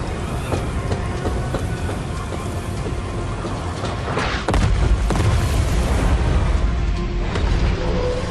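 Artillery explosions in MechWarrior 5: Clans, a deep rumbling barrage of booms under continuous battle noise, with a heavy, louder blast hitting midway and sustained low thunder afterward.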